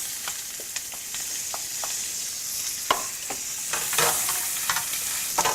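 Chili frying in a pan over medium heat with garlic, a steady close sizzle broken by repeated sharp scrapes and clicks of a spatula stirring, with louder bursts near the end.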